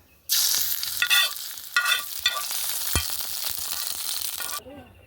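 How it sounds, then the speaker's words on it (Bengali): Hot oil tempered with mustard seeds and curry leaves is poured over semolina, setting off a sudden loud burst of sizzling with crackles and a spoon clink, before it cuts off into quiet. "এবার আমি এই ফোড়নটা সুজিতে দিয়ে দেবো"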